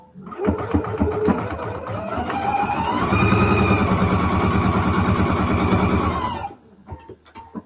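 Sewing machine stitching the ends of a 4-inch-wide fabric strip together, right sides facing, running in one steady continuous burst that rises in pitch as it speeds up, then stops abruptly, leaving a brief quiet tail.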